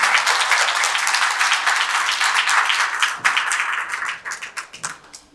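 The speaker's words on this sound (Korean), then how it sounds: "뜨거운 박수 다시 한번 부탁드리겠습니다" Loud, sustained applause from an assembly at a regular meeting on Korean peninsula peace policy. A dense crowd of clapping hands holds steady, then thins into scattered, separate claps as it dies away.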